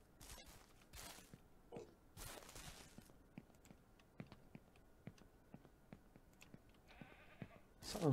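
Several short bleats from a goat ring out over scattered soft footsteps and light clatter, with a brief louder burst at the end, in the video game Ranch Simulator.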